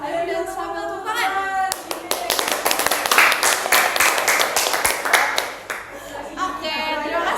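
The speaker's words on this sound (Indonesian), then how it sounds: "kalau kalian ceria boleh senyum dan sambil tepuk tangan." A group of participants claps hands during an ice-breaking activity, a burst of close, loud, fast clapping that starts abruptly after speech, runs for several seconds, then fades back into talking.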